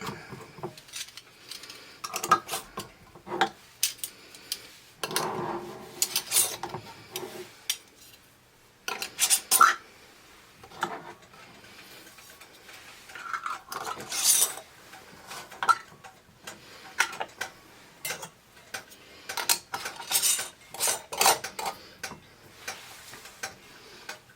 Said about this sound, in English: Going to put the rings on finger tight.